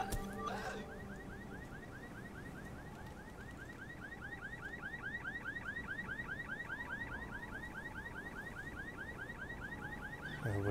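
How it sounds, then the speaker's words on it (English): A car alarm in the video game Secret World Legends wails in a steady, repeating siren cycle of rising chirps, loud and continuous for about ten seconds over game ambience. "Gotta wait for the car alarm to shut off."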